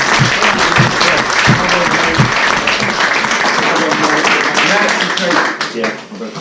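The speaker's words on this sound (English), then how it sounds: "give him a round of applause again" Loud, sustained crowd applause for an angler at the Larford Silver Fish Festival, a steady wash of clapping continuing throughout while someone talks over it, tapering at the end.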